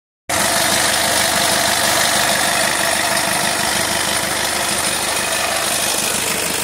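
A 44-foot sailboat's diesel engine catches almost at once and settles into a loud, steady idle with an even mechanical rumble and vibration, running alone with no voices.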